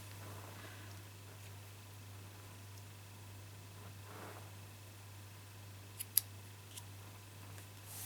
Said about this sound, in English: So let me just trim the edges here.